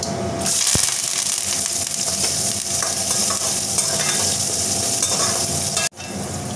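Onions with fennel seeds, green chili and curry leaves sauté in a pan, giving a steady loud sizzle broken by brief stirring scrapes.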